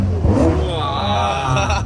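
A Ferrari sports car on the Champs-Élysées near the Arc de Triomphe revs its engine loudly and close by, a steady roaring whir rising in pitch, with faint voices in the busy street behind.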